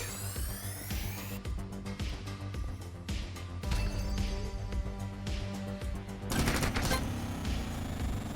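Rapid bursts of gunfire with unlimited ammo in the video game Secret Of The Witch House, dense repeated shots running through the whole stretch and growing louder and harsher toward the end, mixed with game music and effects.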